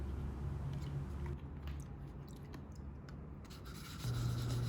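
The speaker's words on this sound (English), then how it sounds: "we're going to repeat that with progressively finer grits of sandpaper" Steady soft wet rubbing of sandpaper over a polymer clay turtle sculpture, a continuous close scratchy friction with small rhythmic variations and no talking.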